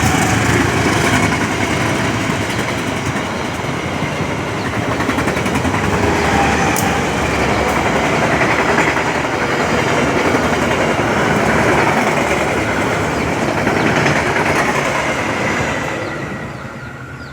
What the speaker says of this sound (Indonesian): Sebentar ada kereta yang lewat.